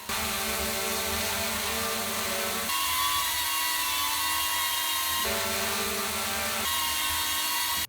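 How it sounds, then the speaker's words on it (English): Propeller noise from DJI Neo 2 and DJI Lito drones in flight: a continuous, steady, high-pitched whine that changes character a couple of times as the drones switch, loud and close with no talking. "The Neo 2 is louder overall, and it does have a higher pitched frequency, so it's definitely the noisier of the two drones."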